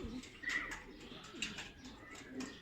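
Tumbler pigeons cooing softly in repeated low calls, with faint higher chirps and a little background noise.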